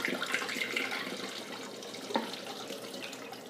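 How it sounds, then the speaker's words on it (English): Photographic fixer solution poured back into its bottle during home black-and-white film developing, a quiet continuous liquid trickle and splash, faint and close, with a small clink partway through. "So the fixer you can go ahead and pour back into its bottle."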